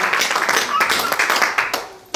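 A church congregation claps together in a dense, steady burst of applause, close and fairly loud, with a voice briefly audible over it.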